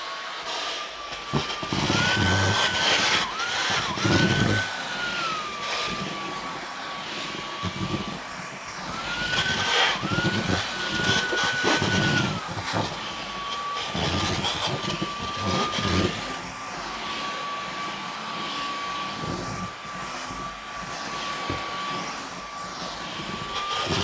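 A Dyson V15 cordless vacuum cleaner runs on a black bamboo sheet, a continuous motor whine with a high tone that dips and rises as the head is pushed back and forth in passes, fairly close and with no talk.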